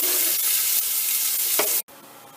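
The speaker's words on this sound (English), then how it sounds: "While your onions saute" Onions sauté in extra virgin olive oil in a pan over medium heat, a steady, close, hissing sizzle that continues without a break until it cuts off abruptly near the end, with no talking.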